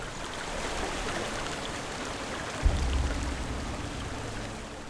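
A waterfall in the video game Hellblade: Senua's Sacrifice rushes continuously, with a steady splashing wash and a low rumbling thud joining partway through.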